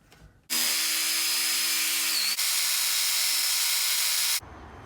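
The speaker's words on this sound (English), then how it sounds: "so the old jigsaw" A jigsaw cuts continuously for about four seconds, loud and close, with a steady high whine and dense broadband buzz, during work on a magnetic Deadpool scabbard and swords.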